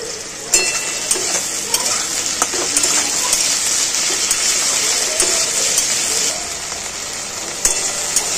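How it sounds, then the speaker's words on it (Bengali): Okra frying in hot oil while being stirred, a loud continuous sizzle with occasional sharp scrapes and clinks of the utensil against the pan. "গরম তেলের মধ্যে দিয়ে দেবো ঢ্যাঁড়স, আলুর মতন করে একটু ভেজে নেবো নেড়ে ছেড়ে"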